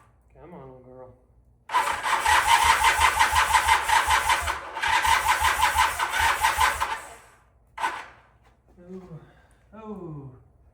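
A 1981 Honda CM400 motorcycle engine cranks and catches, running roughly for about five seconds, cutting out briefly, then firing again before dying, close and loud. A voice speaks softly before and after.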